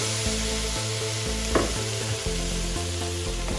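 Spiced Kerala-style beef frying in a pan on a medium flame as water is added, producing a loud, steady sizzle with occasional stirring scrapes and no voices.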